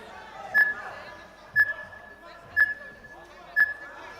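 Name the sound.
20-second timer beeping at an MMA fight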